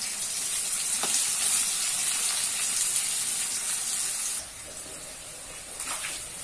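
Onions frying in oil in a pan with sugar and salt added, giving a steady bright sizzle that runs continuously and drops slightly in level near the end.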